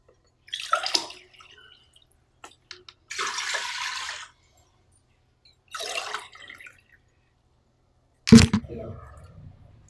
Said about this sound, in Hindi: सबसे पहले कुकर में 3 गिलास पानी डाल दें।